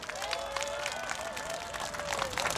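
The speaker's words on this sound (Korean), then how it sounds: "이 두 분을 위해서 큰 박수 한번 보냅시다" A crowd at a political rally breaks into steady, dense applause mixed with cheering, a sustained wash of clapping and a tonal voice or whistle running through it.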